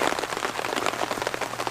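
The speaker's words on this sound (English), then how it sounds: "thank you for joining me on this wonderful rainy day" Steady rain falls through woodland, a dense, even patter of drops on leaves and ground that continues without a break and with no voices.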